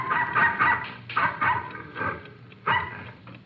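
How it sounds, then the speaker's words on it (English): A dog barks several times in a radio drama set at night in rural Carson County, Texas, with four loud, close woofs spaced about a second apart and no talking. "the occupants were awakened by the barking of a dog"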